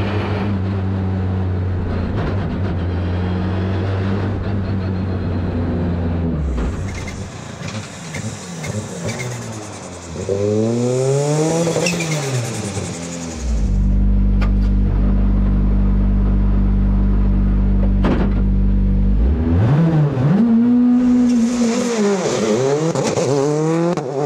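A Citroën C3 Rally2 rally car's engine screams up through the revs, dropping sharply at each gear shift before climbing again, loud and close with a steady droning hold in between.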